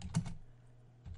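Quiet keystrokes on a computer keyboard while typing a command: a quick cluster of clicks, a pause, then another pair of taps, close and soft.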